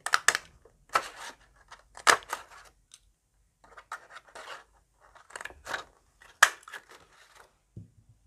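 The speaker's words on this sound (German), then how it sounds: "Jetzt loche ich mir ein paar Kreise." A paper punch cuts circles out of patterned designer paper in a series of sharp, crunchy clicks and rustles, spaced irregularly with short quiet gaps between them, close and fairly loud.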